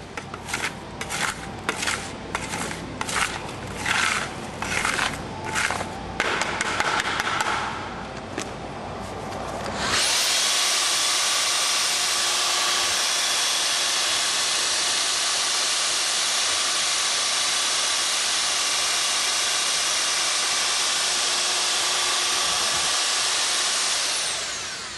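Mixer blending SureCrete Xtreme concrete countertop mix, first in choppy whirring bursts, then a continuous loud hissing whir that runs steadily to the end.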